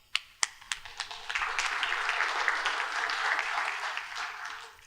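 A conference audience applauds as a speaker comes up for a talk on Accumulo ingest performance: a few sharp separate claps first, then a sustained wash of moderate clapping that fades toward the end.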